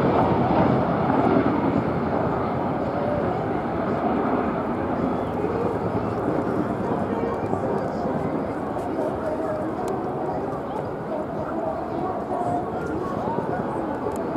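A Boeing CH-47 Chinook twin-rotor helicopter flies a low-level orbit at an air festival, giving a loud, sustained, throbbing rotor roar that holds steady throughout, with a commentator talking over it.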